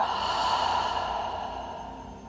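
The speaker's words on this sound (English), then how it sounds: "And exhaling out." A long, audible exhale through the mouth during a meditation session, breathy and steady, slowly fading over a couple of seconds with no talking.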